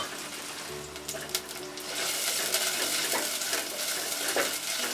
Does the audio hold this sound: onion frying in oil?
yes